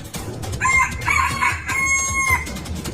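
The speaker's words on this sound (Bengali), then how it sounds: "জাদুর মুরগি তখন কক কক করে ডেকে ওঠে" A cartoon magic hen squawks and clucks in loud, close, harmonic calls, a few bursts in quick succession.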